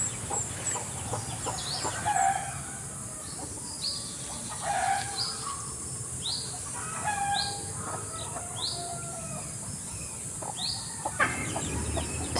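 A hen clucks repeatedly nearby while her three small chicks peep and chirp in quick bursts over a faint outdoor hum.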